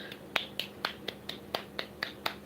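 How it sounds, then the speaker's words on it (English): Hands clapping in a steady rhythm, about ten sharp claps in quick succession from a single nearby person, with no talking. "Everybody clap your hands."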